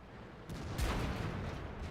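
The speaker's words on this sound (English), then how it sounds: "KV-85 tries to take a shot," A KV-85 tank cannon fires in World of Tanks, one sharp, heavy blast near the middle that rolls into a short rumbling tail over the background noise.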